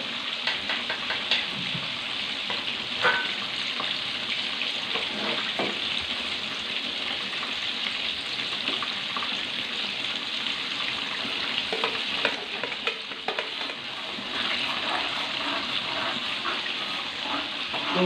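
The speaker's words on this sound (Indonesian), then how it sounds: "Dan sekarang saya nak tumis rempahnya nih." Ground spice paste (rempah) sautéing in hot oil in a pan for quail in sweet soy sambal, a steady sizzle and frying hiss with occasional stirring scrapes, continuous and alone.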